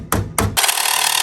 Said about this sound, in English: So I might actually hammer that up now that I'm sitting here